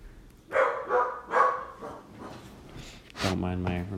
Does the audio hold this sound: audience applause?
no